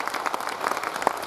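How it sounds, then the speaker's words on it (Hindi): A crowd at a public ceremony claps in a quieter, looser patter, with individual claps standing out against a soft background. "इनके लिए एक बार फिर से जोरदार"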